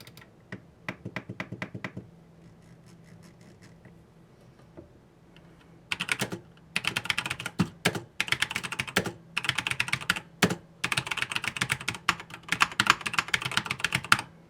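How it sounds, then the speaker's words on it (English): Azio L80 RGB mechanical keyboard with brown tactile KL switches typed on, a few slow isolated keystrokes first, then dense, fast, crisp key clatter in bursts, close and clear with no talking. "Here's a quick sound test."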